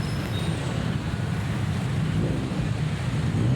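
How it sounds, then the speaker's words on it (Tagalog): Steady wind roars and buffets a microphone, a constant low rumble with broadband hiss and no clear voices. "malamig na ang hangin dito sa Mega World. Lakas ng hangin dito."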